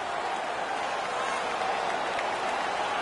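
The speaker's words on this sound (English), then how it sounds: "The crowd is ecstatic." A New York Islanders home playoff crowd at an ice hockey arena roars after a fight, a dense, sustained wall of cheering and clapping heard from within the stands.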